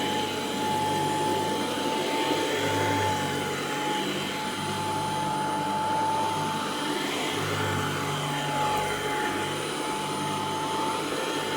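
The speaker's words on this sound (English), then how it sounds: "now we can vacuum." A late-1970s Royal 880 metal upright vacuum cleaner runs steadily and continuously on carpet, a smooth whirring drone with a faint high whine, close by and unbroken throughout.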